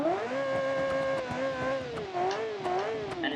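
A 1.8-liter V8 in a kei car revs repeatedly in a synthetic, game-like tone in a driving simulation game, pitch rising and dipping in smooth sweeps, loud and continuous throughout.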